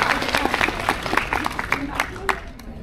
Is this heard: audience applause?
yes